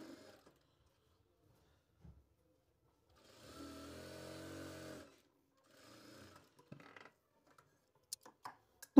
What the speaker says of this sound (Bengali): তো দেখেন ডবল সেলাই দিয়ে দিলাম।